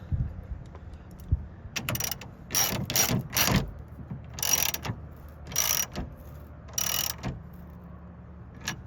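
A ratchet tightens the clamp of a tonneau cover on a GMC Sierra EV pickup bed, giving repeated short bursts of metallic clicking with pauses between, close and fairly quiet with no talk.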